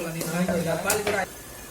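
Chopped onions and green chillies fry in a pan for a mushroom masala roast, with a brief close sizzle and stirring scrapes over under two seconds.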